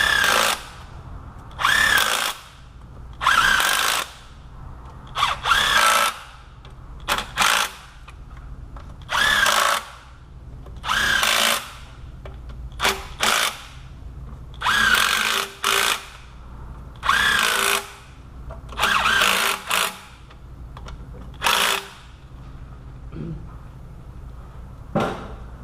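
Power tool snugs the transmission pan bolts on a Pontiac G6 in repeated short whirring bursts, about a dozen runs separated by brief pauses, loud and close.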